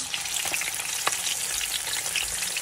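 Chili dropped into hot frying oil for a meat and pasta dish, giving a steady close sizzle and crackle throughout with a few small pops and stirring clicks.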